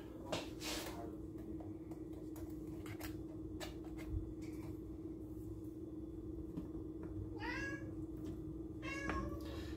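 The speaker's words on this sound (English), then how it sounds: "that's the cat Poppy." Several clear meows from a cat in a home kitchen, standing out over a steady background hum, with a couple of sharp rising cries near the end.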